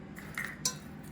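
A spoon clinks twice against a bowl while mixing yeast into the base for pita dough, short close light metallic taps over a quiet room, with no talking.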